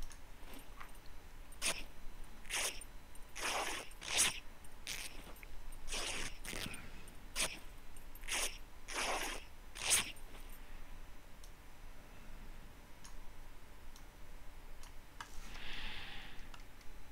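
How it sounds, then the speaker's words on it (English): Boxer shorts being cut into rags in the game SCUM: about a dozen quick, crisp cloth-ripping bursts in an irregular rhythm, fairly close, then a quieter tail with one softer swish near the end. "Well, I can just cut this into rags."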